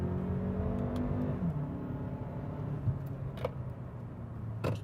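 A 2017 Kia Sportage SUV engine revs and pulls hard through turns, pitch rising and falling as it accelerates, with tire and road noise underneath.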